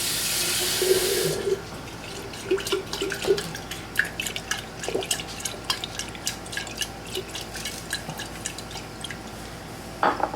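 Squash seeds being rinsed by hand under a running kitchen tap, with a steady rush of water at first, then scattered drips, splashes and small clinks as the seeds are swished around, close and without talk.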